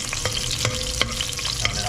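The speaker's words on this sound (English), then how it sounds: "I'm gonna fry up a little bit" Onion, garlic and pepper frying in hot oil in a pot, a steady loud sizzle close up, broken by a few soft stirring knocks.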